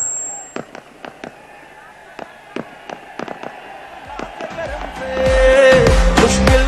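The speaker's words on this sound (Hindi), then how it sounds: "ये बम बाद में चलाएं" Firecrackers go off at an outdoor political rally in Haroonabad, a string of sharp, irregular cracks and pops over crowd noise, followed by a swell of loud chanting and amplified sound.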